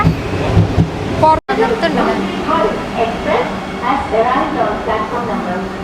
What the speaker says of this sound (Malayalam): ട്രെയിൻ പോയിടി